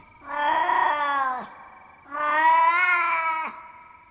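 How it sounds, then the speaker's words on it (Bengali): A cat cries at night near a forest, giving two long, wailing yowls close by, each rising and then dropping off, with a short quiet gap between them. "বিড়ালটা তখনও কেঁদে চলেছে।"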